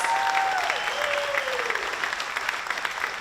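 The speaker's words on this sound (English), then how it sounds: "Give them a big round of applause." An audience applauds at a local political event in a theater, with dense, sustained clapping that fills the room and a brief whistle near the start.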